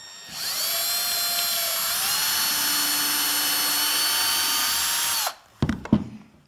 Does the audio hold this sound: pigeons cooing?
no